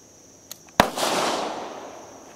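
A single shot from a Spanish Campo Giro 1913-16 pistol chambered in 9mm Largo, fired outdoors: a faint click, then one sharp loud report with a long rolling echo fading over two seconds.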